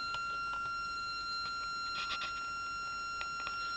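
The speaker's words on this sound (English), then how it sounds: "This is how a square wave sounds." A steady, buzzy square wave tone from an electronic integrator and differentiator circuit holds constant and unbroken throughout, with faint clicks scattered over it.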